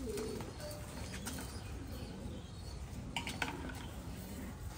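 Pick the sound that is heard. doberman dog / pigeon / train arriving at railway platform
pigeon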